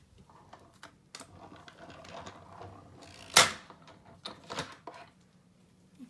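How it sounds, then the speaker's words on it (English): A sheet of card inside an embossing folder is cranked through a Stampin' Cut and Emboss machine, giving one loud crunching pass near the middle among quieter mechanical creaks and clicks, close by, with no talking. "run this through my Stampin' Cut Emboss machine"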